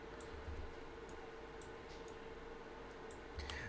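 Quiet, irregular mouse clicks, a dozen or so light ticks over a constant background hum, close up with no voices.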